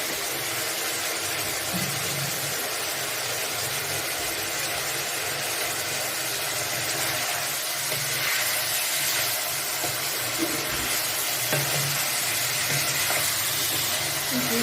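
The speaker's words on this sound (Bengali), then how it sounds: "সামান্য একটু নুন দিয়ে ভালো করে ভেজে নিতে হবে।" Rice fries with a little salt and little oil in a pan, giving a continuous loud sizzle with intermittent stirring scrapes throughout.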